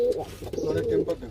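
Pigeons, original Andhra breed birds, coo in a loft with soft repeated throaty calls close by, partly overlapping faint background voices.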